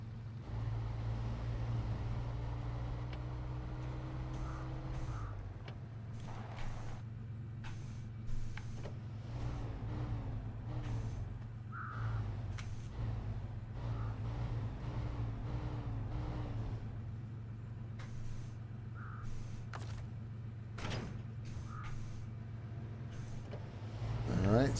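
A truck in the video game SnowRunner parks a trailer, its steady low engine drone running throughout with scattered clunks, whines and mechanical clicks layered on top, rising briefly near the end.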